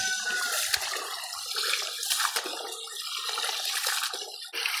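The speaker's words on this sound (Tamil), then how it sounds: "இந்த செடிக்கு ஊற்றலாம், இதெல்லாம் நல்ல தண்ணி." Rice-washing water is poured from a vessel onto a curry leaf plant, a steady close splashing gush running for several seconds without talk.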